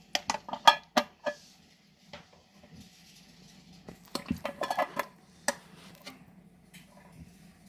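Glass jars set one by one into a pot lined with a clean towel for sterilizing give sharp clinks and knocks, bursts of clattering between quieter pauses, close and with no talking.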